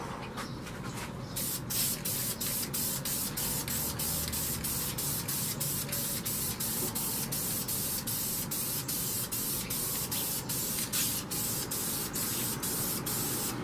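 Red spray paint hissing from an aerosol can in quick, rapid bursts, a loud continuous spray broken by short rhythmic pulses as the can sweeps back and forth.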